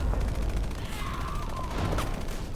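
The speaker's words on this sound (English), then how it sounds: "I can't hear you over the gunshots" Gunfire in the video game Love and Deepspace, rapid bursts of shots crackling over a low rumbling background, fairly loud and continuous.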